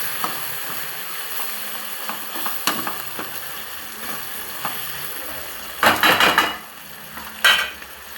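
Tomatoes fry in a pan with a steady soft sizzle. Scattered clinks and scraping stirs break through, and louder bursts come near the end.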